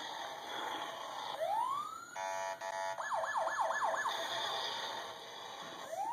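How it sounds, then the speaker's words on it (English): Toy police car siren, a thin electronic wail that sweeps up, shifts into a rapid warbling yelp and rises again, fairly quiet and close with no talking over it. "Make the siren go again."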